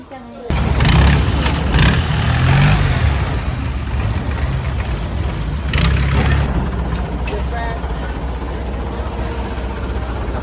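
A motorboat engine runs loud and steady on the water in Thailand, a constant low drone with voices talking over it throughout.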